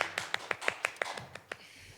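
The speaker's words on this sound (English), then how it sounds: "Golf clap" Quiet, slow golf clap from one or two people, about ten crisp, separate hand claps in an even rhythm, close and soft, trailing off into silence.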